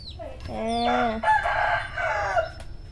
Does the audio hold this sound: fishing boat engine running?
no